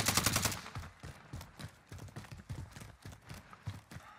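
Bursts of gunfire in Call of Duty Warzone, starting with a loud rapid volley and then continuing as quieter, scattered shots that sound somewhat distant.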